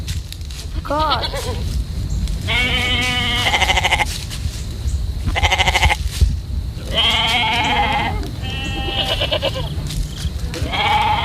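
A goat bleats again and again, loud and close, in wavering cries over a steady low rumble. The calls come in clustered bursts with short breaks between them, and no one speaks.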